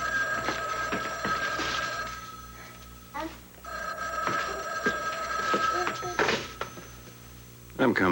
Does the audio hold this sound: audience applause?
no